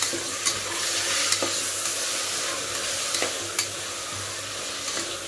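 Tomato and peas cooking in a pan for a dhaba-style tomato bath, the utensil stirring and scraping steadily over a constant sizzle, with a few sharper scrapes and no voices.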